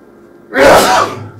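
A single loud, close sneeze bursts out after a quiet moment during a math lesson, a sharp explosive blast that trails off briefly.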